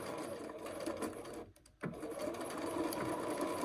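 Sewing machine re-stitching and backstitching a scrap-fabric zip bag, a continuous close whir that pauses briefly midway before starting up again.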